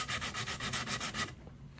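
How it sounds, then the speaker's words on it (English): Rapid back-and-forth scratchy rubbing of sandpaper on a wooden prop by hand, about ten quick strokes in a steady rhythm, close up, then stopping. "We're just going to want to sand somewhat on camera here"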